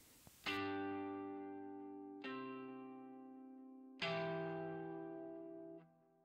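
Synth chords drawn in as MIDI notes in Cakewalk play back before any arpeggiator is added: three sustained, bright harmonic chords, each struck cleanly and slowly decaying, with nobody talking.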